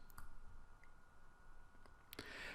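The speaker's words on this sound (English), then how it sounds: "I simply right click and choose Accept" Computer mouse clicks while working in Ortho Analyzer software, a few faint, sharp isolated clicks spread over a quiet background, with a louder click cluster near the end.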